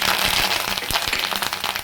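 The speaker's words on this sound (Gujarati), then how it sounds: "તો આપણી રાઈ એકદમ મસ્ત બધી ફૂટી ગઈ" Mustard seeds crackle and pop in hot oil with cumin, bay leaf, dried red chilli and curry leaves: a dense, steady spatter of sharp close pops over a constant hiss, with no break.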